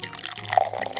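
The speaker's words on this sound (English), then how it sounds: "Let's give it a pour" Rosé wine poured into glasses, a short bubbling trickle of liquid close to the microphone, heard alone with no talk.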